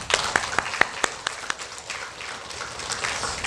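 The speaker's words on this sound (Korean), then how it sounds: "우리 한 번 더 우리 솔티 어린이 찬양팀에서 한 박수 할까요?" Congregation in a church applauding a children's worship team, a thin spread of scattered claps with a few sharper hand strikes early, moderately distant and steady for a few seconds without speech.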